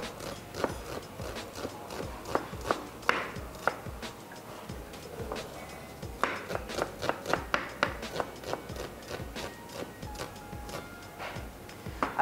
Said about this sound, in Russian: Режем мы его полукольцами.